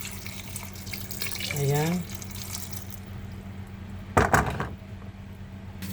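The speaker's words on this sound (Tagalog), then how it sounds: "Sandali, dagdagan po na natin ng tubig." Water runs from a tap into a pressure cooker holding beef head pares, a steady hiss beneath a kitchen hum, with a short splashing burst near the end and a voice speaking briefly.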